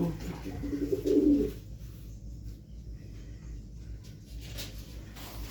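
A pigeon gives a short, fairly loud coo near the start, then quieter low murmuring continues against a soft background hum.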